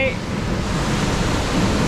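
Haew Narok waterfall at Khao Yai thunders in a dense, steady roar of falling water heard from below amid drifting spray, with a voice briefly audible over it.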